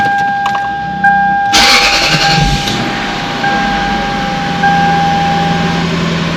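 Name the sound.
car engine starting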